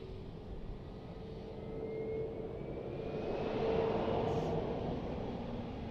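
Aircraft taxiing at Lisbon Airport, a steady distant engine drone with a faint whine that swells slightly toward the middle and then holds, heard alone without voices.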